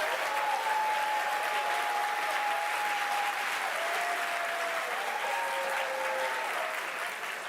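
A livestream audience at a Dead by Daylight tenth-anniversary event claps in steady, dense applause that holds at a loud level for the whole stretch, with a few faint cheering tones riding on top.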